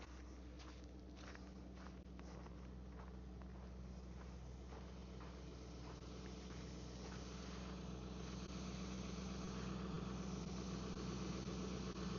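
A 7.3 diesel truck engine idling after a cold start in freezing weather, a faint, steady low rumble with a constant hum and light rattles, running alone without talk.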